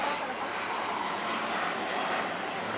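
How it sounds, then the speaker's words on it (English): A German Air Force Airbus A400M with four Europrop TP400 turboprop engines roars steadily overhead during a tactical flying display at RIAT 2025, a loud broad rumble without pauses. "Four 1100 shaft horsepower Europrop International TP400 turboprop engines on this aircraft"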